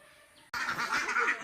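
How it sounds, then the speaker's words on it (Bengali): Domestic ducks returning home from a river to be fed honk and quack in a cluster of calls that begins abruptly after a quiet moment, fairly close and continuing to the end. "এই যে হাঁসগুলো আসছে বাসায় নদী থেকে খাবার খাওয়ার জন্য।"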